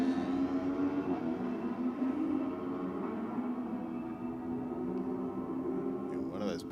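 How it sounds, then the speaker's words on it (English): A drag racing motorcycle at a bike night event, its engine roaring steadily at a distance through track microphones, a sustained buzzing drone that fades slightly midway with a faint commentator voice over it. "One of those bikes sounding fantastic through the track mics."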